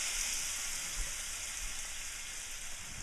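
A butter and flour roux cooks in a pan, giving off a soft, steady sizzle and crackle with a faint high hiss throughout, quiet and unbroken, with no talking.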